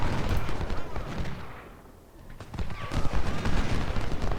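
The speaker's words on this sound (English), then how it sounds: "Good volley, good volley." Infantry musket volleys crackle in ragged bursts during a Civil War battle at Bull Run in Ultimate General: Civil War, loud and dense, briefly dipping before resuming, with faint horse sounds mixed in.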